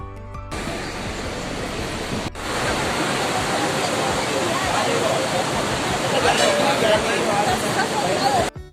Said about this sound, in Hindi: व्यास गुफा के बाद आती है सरस्वती नदी।